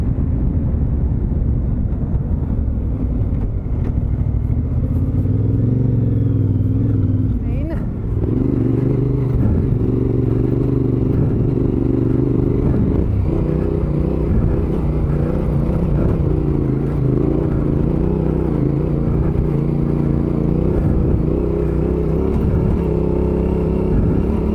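A vehicle on tyres with 12,000 km of wear crawling uphill at walking pace on Mount Terrible: a steady, loud low engine drone with gentle shifts in pitch as it labours, continuous throughout.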